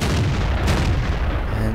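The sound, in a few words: tank gunfire in the video game World of Tanks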